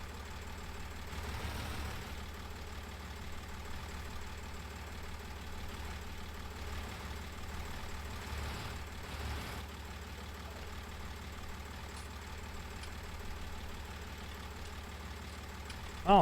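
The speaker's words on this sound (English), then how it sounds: "Go ahead and pull the tractor forward, get the tractor in a nice good spot" Tractor engine idling in Farming Simulator 19, a steady low mechanical hum that holds evenly for about sixteen seconds at a moderate, quiet level, with a brief bump at the very end.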